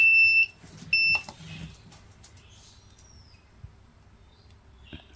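An Arduino buzzer alarm in a forest fire detection project sounds two short, loud, piercing high-pitched beeps near the start, followed by quiet background with faint handling noises.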